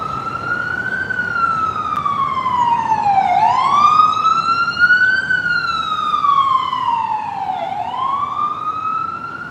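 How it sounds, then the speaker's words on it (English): Emergency vehicle siren wailing loud and near, a slow rising and falling tone repeating in long sweeps over a steady road-noise rumble. "Sirens every day."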